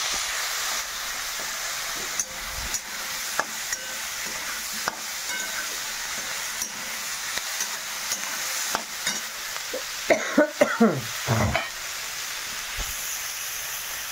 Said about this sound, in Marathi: इथं मिरची कांदा कच्चं टमाटर भाजायला टाकले कढईत